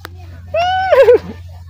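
A short, high neigh from a male horse at a dairy farm rises and then wavers into a shaky whinny, close by, over a low steady hum.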